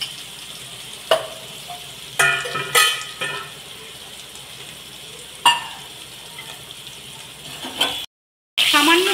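Spice masala frying in oil in a pan, a soft steady sizzle broken by several sharp clanks and scrapes of a spoon, with a brief silent gap near the end.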